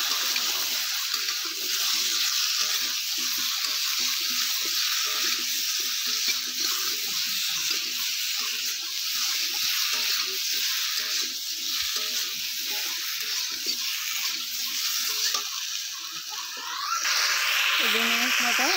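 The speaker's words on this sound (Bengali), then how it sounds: "এবার আমি সব কিছু একসাথে ভালো করে কষিয়ে নেব।" Cucumber curry with turmeric being sautéed in a pan, a steady close sizzle and frying hiss running throughout with occasional stirring scrapes.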